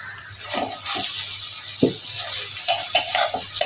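Onion and grated watermelon rind being stirred together in a pan, soft scraping and stirring strokes with light sizzling, a few sharper clinks of the utensil against the pan.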